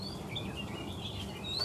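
A Chinese hwamei songbird gives faint, thin, high chirps and short warbling phrases over a low background murmur, steady across the short span.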